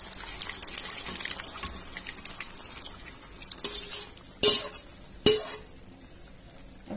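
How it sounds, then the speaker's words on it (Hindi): Frying and stirring of cooked spices in a pan, followed by two sudden wet splashes of thick boiled lentils being tipped in for Rajasthani dal, then quieter sizzling. "अब हम इसमें हमारी उबली हुई दाल डाल देंगे।"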